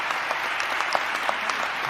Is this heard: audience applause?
yes